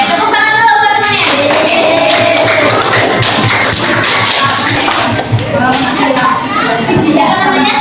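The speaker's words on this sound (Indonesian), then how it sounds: "tepuk tangan dulu buat temannya" Classroom of madrasah pupils clapping for a fellow student, loud, close, uneven hand claps and taps starting after a second, with children's voices mixed in.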